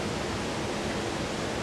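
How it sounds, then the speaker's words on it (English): Water rushes over a mill dam in a steady, dense roar like white noise, filling the whole short stretch evenly with no breaks or other sounds. "this dam's doing is it's causing white noise in the background"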